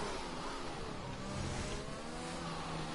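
A McLaren F1 race car in the F1 2021 game crossing the finish line on the Spain circuit, its engine a steady, loud drone holding throughout.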